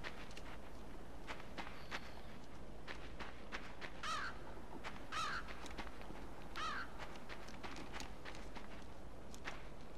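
A bird in the game Limbo pecks at a cage, producing a run of sharp, irregular tapping clicks over low background ambience, with a few rasping caws in between.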